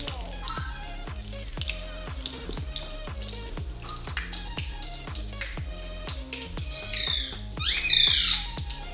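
In a home kitchen, a pet parrot gives two short, shrill squawks near the end, calling to another parrot, over a steady rhythmic ticking and dripping that runs throughout.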